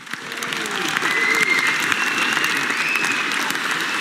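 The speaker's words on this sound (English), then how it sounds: "another big round of applause to them." A large crowd applauds steadily at the Red Bull Racing 2024 Formula 1 car launch, a dense wash of clapping that swells in the first half second and holds loud throughout, with a faint voice beneath.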